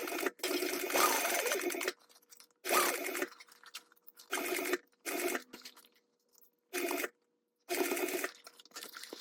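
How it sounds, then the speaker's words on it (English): A sewing machine stitches a mini backpack seam at a scant quarter inch, running in repeated loud bursts of varying length, separated by clear silent pauses. "I'm gonna stitch at a scant 1/4 inch seam allowance"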